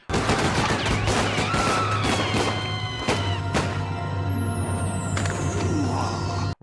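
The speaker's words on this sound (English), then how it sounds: "this fucking ice cream man called, like, the Ice Cream King gets gunned down in cold blood" Gunfire in a 1980s slasher film scene where an ice cream man is gunned down: rapid bursts of loud shots crack in quick succession, with sharp, separate impacts among them.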